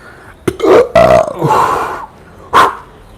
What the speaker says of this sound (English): What I just did, that burp, I got to talk about this.